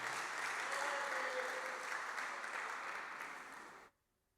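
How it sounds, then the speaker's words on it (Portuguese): Church congregation applauding during a Sunday service, with steady, dense clapping that fades slightly and then stops abruptly near the end, followed by near silence. "Você pode aplaudir ao Senhor pela vida dele?"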